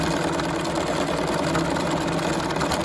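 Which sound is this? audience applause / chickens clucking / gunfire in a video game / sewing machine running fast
sewing machine running fast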